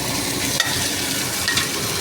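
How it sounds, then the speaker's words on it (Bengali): Onions fry in a pan until reddish-brown, giving a steady, close sizzle with a faint clink near the start and another about three-quarters of the way through. "পেঁয়াজটা একটু লাল লাল করে ভাজা ভাজা করে নিতে হবে।"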